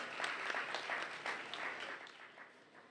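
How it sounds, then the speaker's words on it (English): Audience applause at a secondary school graduation ceremony, a broad patter of clapping that holds steady and then slowly thins and fades. "Give him a round of applause"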